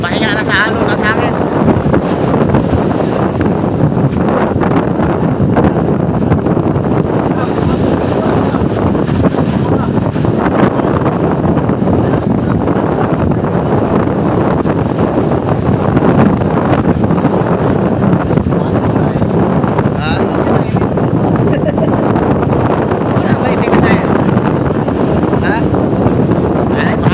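Strong wind buffets the microphone on a small boat at sea, with waves washing and slapping steadily throughout, a loud, continuous roar with no break in intensity.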